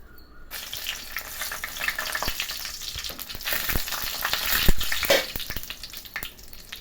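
Dried red chillies hit hot oil in a pan for a mango pulihora tempering, giving a loud, steady crackling sizzle that swells midway with sharp spits and pops, no voices.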